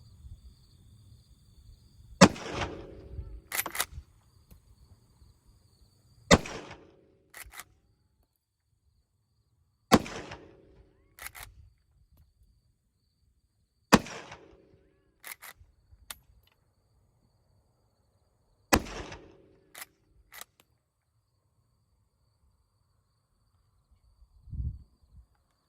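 Winchester 1894 lever-action rifle from 1897, chambered in 25-35, fired outdoors: five sharp, loud shots spaced several seconds apart, each trailed by the clack of the lever cycling, with a faint thump at the end.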